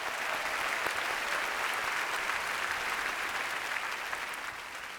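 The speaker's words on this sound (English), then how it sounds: "Round of applause for Nishta." A keynote crowd at a tech conference breaks into steady, dense applause that holds at an even level from start to finish and tapers slightly at the end, with no voices over it.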